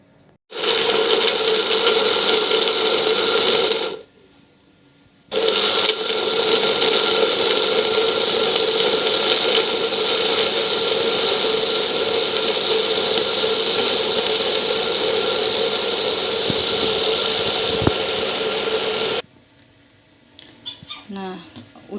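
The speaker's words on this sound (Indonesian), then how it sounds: "Tambahin sedikit air buat supaya lancar ngeblendernya" A kitchen blender whirs loudly while blending jengkol balado spice paste with a little added water, a steady motor roar that cuts out briefly, restarts and runs on before stopping into quiet clatter.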